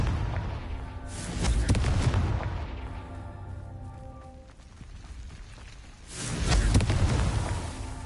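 Two heavy booming blasts from the Confringo blasting spell in Hogwarts Legacy, each a deep rumbling explosion followed by a fading ringing tail, spaced about five seconds apart.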